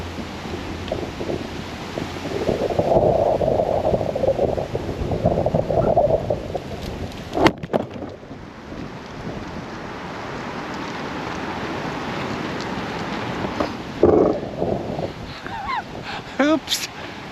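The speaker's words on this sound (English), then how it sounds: "It's a very, very windy day." Strong gusts of wind roar on a very windy day near big old trees at a riverside during a windstorm, buffeting the microphone in surges, with a few sharp knocks and a voice speaking briefly.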